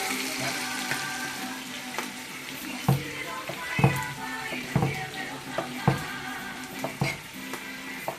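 Pork with onion and garlic sizzling in a pan while a utensil stirs it, with repeated scraping knocks over a steady frying hiss, close and moderately loud.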